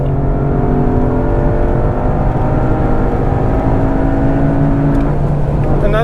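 A Toyota GR Yaris engine accelerates hard on a gymkhana course, a loud, steady rising drone with a strong tonal whine heard from inside the car, then a quick upshift dips the pitch near the end.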